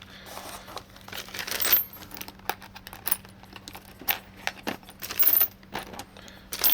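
Small screws and parts tumble into a bag with scattered light metallic clinks and rustles in uneven bursts, fairly close and quiet, with no voices.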